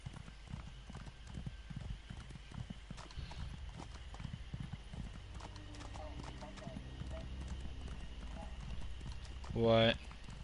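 Horse hooves clip-clop in the video game ESO: Morrowind on PS4, a steady low trotting rhythm beneath game ambience and occasional speech, with a brief louder burst near the end.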